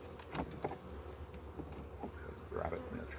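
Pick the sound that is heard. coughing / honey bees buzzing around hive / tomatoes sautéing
honey bees buzzing around hive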